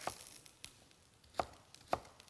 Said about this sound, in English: just dice up some green onions